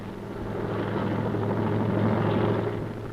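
Military helicopter carrying troops during the 1971 India–Pakistan war, a steady, throbbing rotor drone that swells slightly louder toward the middle, with no talk.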